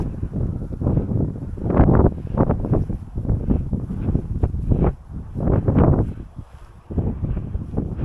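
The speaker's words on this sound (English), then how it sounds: "It's a little bit windy up here" Wind gusts across a hilltop overlooking Norfolk countryside near the Bawsey ruins of St James church, a steady rough rushing and buffeting against the microphone that swells and eases over several seconds, with no talk.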